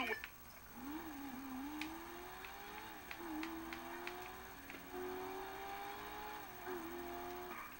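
A race car engine in GTA V Online hums faintly with wavering pitch, idling and gently revving, joined by a few soft clicks and knocks in a quiet game scene.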